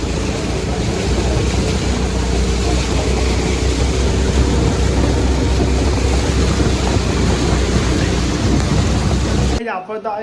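Heavy rain pours down with rolling thunder at a village Janmashtami fair, a dense, loud wash of noise throughout that cuts off abruptly at the end.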